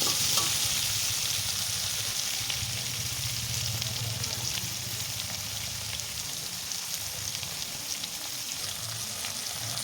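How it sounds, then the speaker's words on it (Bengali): Potato, cauliflower and peas fry in a pan with a dense, steady, rain-like sizzle that stays close and even throughout, without any talking. "মটরশুঁটিগুলোকে দিয়ে আর একটু ভালো করে লাল লাল করে ভেজে নেব।"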